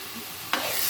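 Fish frying in a pan of oil, a soft hiss that suddenly jumps into a loud, bright sizzle partway through and holds steady to the end, with no voices.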